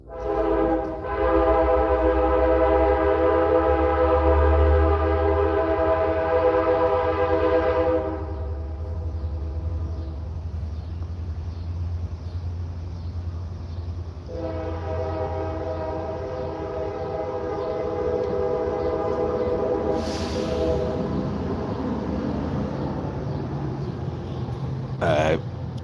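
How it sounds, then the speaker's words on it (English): A train horn blows long, loud and steady nearby, with a brief break partway through before it sounds again, over a low rumble of the passing train. "Blowing the train horn."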